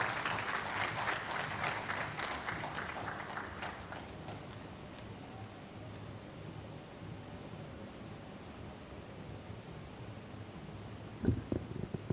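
Seminar audience applause in a hall, a moderate round of clapping for a few seconds that fades into low room hum, with a brief knock or rustle near the end.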